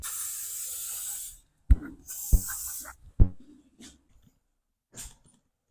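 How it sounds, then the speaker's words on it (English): Lubricant spray is hissing onto the hinges of a garage door. A long steady hiss runs for about a second and a half, then a few shorter bursts follow with clicks and handling knocks in between, and a final short spray comes near the end. "spray it right here on the hinge part"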